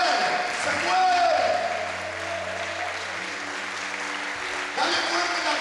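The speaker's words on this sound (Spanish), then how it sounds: "dale fuerte el aplauso" Church congregation at a fellowship gathering in Tijuana breaking into loud applause near the start, with sustained keyboard-like tones underneath; the clapping fades to a softer wash before swelling again at the end.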